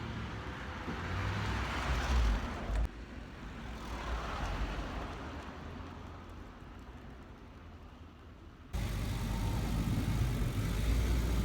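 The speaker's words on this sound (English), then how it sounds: "She's kind of getting a bit arsy because that intake's making her idle all over the place" A Ford F100 fitted with a Crown Victoria engine idles unevenly, its low steady rumble rising and sagging in level with an abrupt jump in loudness toward the end, heard from close by without talk.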